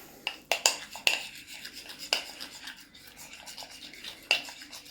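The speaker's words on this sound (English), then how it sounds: "Let me give this a stir." A utensil stirs food in a pot for a crispy chicken sandwich, with close scraping strokes and bright metallic clinks at an uneven pace and no voices.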